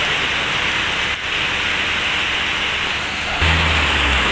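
Heavy rain pouring outside a restaurant in Malaysia, a dense, loud and steady hiss that swells near the end, with no talk over it.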